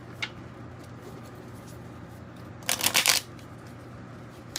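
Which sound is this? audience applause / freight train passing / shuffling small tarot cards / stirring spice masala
shuffling small tarot cards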